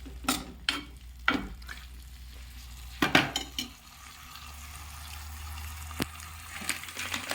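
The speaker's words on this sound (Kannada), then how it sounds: "ಫ್ರೈ ಮಾಡ್ಕೊಳ್ಳೋಣ." Tomato sambar ingredients frying in a pan with a soft, constant sizzle under a low hum, punctuated by several sharp clinks and scrapes of a utensil against the pan, close and fairly quiet.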